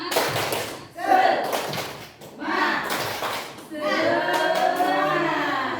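Adults gathered at a school positive-culture session perform a rhythmic group clap, with patterned bursts of clapping separated by short pauses, followed by voices chanting in unison nearby.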